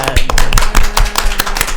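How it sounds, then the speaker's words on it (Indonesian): An audience applauds a university animal husbandry student association, producing loud, close, quick hand claps in an irregular but steady patter for a short burst. "Beri tepuk tangan untuk Hima Prodi ya"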